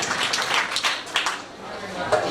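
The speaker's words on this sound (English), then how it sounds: "congratulate them with another round of applause" Applause from an audience at a primary school induction ceremony, a brief round of clapping that rises and dips with talking mixed in.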